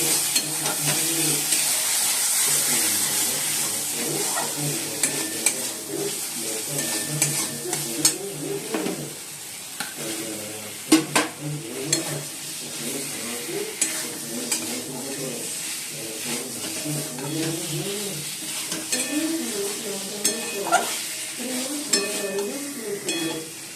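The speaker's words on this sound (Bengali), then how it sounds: "আর মশলাটাও কষে দিচ্ছি" Spice masala fries in a pan while being stirred, a continuous close sizzle overlaid with repeated scraping and clattering strokes of the spoon against the pan, with no talk.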